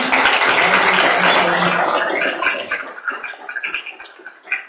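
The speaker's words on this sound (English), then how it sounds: "and let's applause." A meetup audience applauds a speaker being welcomed, with loud, dense clapping at first that thins into scattered, fading claps toward the end.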